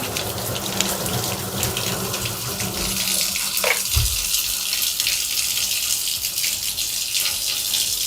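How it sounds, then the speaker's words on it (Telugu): Thorough hand scrubbing under a running tap in an IVF clinic, with loud, continuous, close water pouring into a sink and a brief splashing change partway through. "సో థరో హ్యాండ్ వాషింగ్ ఉంటుందండి."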